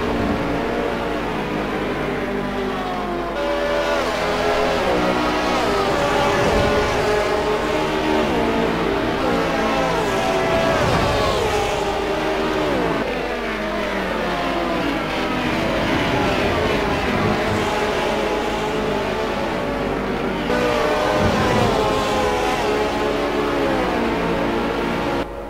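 BMW M3 and other GT2 race cars in Assetto Corsa at Monza, engines droning and whining steadily and loudly throughout with continuous layered motor tones and gear shifts.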